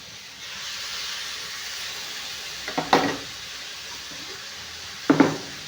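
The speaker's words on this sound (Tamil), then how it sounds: "குடமிளகாயும் தக்காளியும் போட்டுடலாங்க." Capsicum and tomatoes hitting a hot pan, a steady close hiss of sizzling with two sharper bursts of crackling as pieces are added or stirred, no talk.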